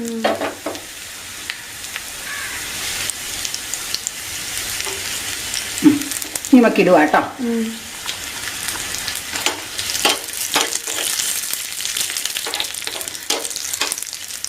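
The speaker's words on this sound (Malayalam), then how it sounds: "ഉള്ളി മൂത്ത് തുടങ്ങി നമുക്ക് ആ വറ്റൽമുളകും കൂടെ ഇടാം" Onion and dried red chili fry in a pan with a loud, steady sizzle, broken by stirring and scraping. A voice speaks briefly over the cooking.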